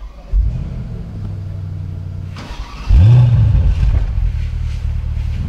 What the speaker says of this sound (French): On a un échappement à valve qui rend la voiture assez vivante. C'est vraiment un très beau bruit.